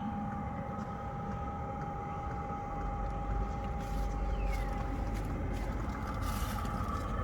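A diesel parking night heater runs in a workshop shed, giving a constant mechanical drone with a steady hum and a broadband rush that thickens partway through, close and continuous.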